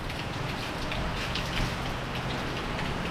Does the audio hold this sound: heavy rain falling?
yes